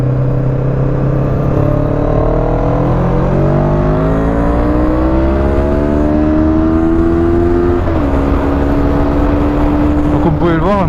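A Honda CB500 motorcycle engine revs hard and climbs quickly toward the red line, a loud, close, rising whine sweeping upward over about ten seconds, then a quick rev blip at the end.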